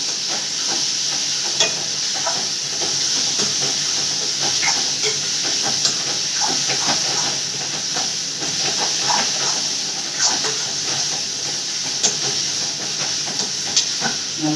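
Chopped tomato and onion sauté in a pan for a Sankara fish kuzhambu, with a steady close sizzle and frequent scraping stirs and small pops throughout, and no talking.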